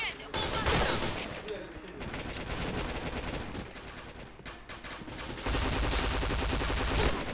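Gunfire in the video game Point Blank, including a P90, on the Bunker map: rapid, dense bursts of automatic shots that keep going across the whole stretch, loud and close, with a player talking at times.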